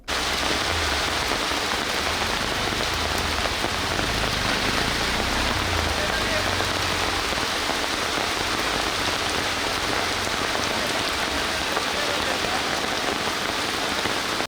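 Heavy, steady downpour drumming on surfaces along the Karnataka coast at Honnavar, Kumta, Ankola and Karwar, a dense unbroken roar of rain with no voices.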